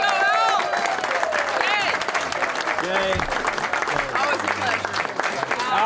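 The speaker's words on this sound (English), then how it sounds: "let's give a big round of applause to Mr." A live audience claps and cheers loudly in a continuous wash of applause, with whoops rising above it, while someone speaks over the noise near the microphone.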